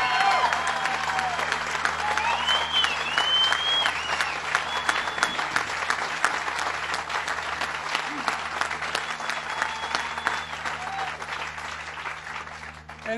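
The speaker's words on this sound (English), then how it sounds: "Let's give him another round of applause." Sustained stadium crowd applause at a Buffalo Bills home opener, dense and loud clapping with cheers and whistles rolling steadily for the whole stretch.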